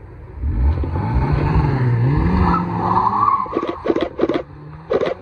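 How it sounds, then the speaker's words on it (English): Ford Sierra RS Cosworth pulling away from Oulton Park circuit, a close engine drone rising and falling through the revs, then a few sharp pops and bangs near the end. "Sierra RS Cosworth."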